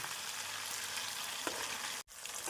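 Prawns crackle and hiss steadily in hot oil in a pan, frying until golden brown and crisp, with a dense close sizzle that continues almost without a break and drops out for a moment just before the end.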